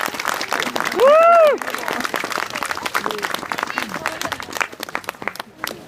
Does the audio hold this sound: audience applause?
yes